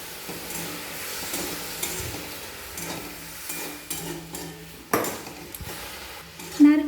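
A spoon stirs coconut filling with nolen jaggery in a pan on the stove, giving soft scraping and clinking strokes with a faint sizzle underneath and a few sharper knocks near the end.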